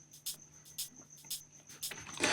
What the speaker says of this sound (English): So the first shaker sounds like this.